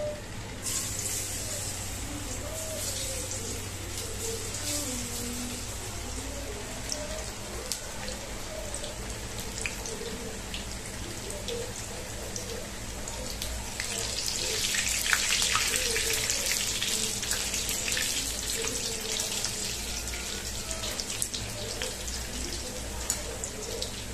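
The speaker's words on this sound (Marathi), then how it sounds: "आता इथे तेल तापलेलं आहे, मी वडी टाकते." Alu vadi, taro leaf fritters, sizzle and crackle steadily in hot oil, a dense frying hiss that swells a little midway, with faint background sounds.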